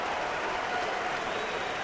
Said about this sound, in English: You hear the applause mounting because Eric Wedge is coming to get Iwakuma.